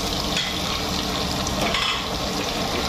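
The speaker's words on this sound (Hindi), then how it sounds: "इसको अच्छी तरह से फ्राई कर" Finely chopped onions frying in a pan for a chicken curry, giving a loud, dense, continuous sizzle close up with faint stirring scrapes throughout.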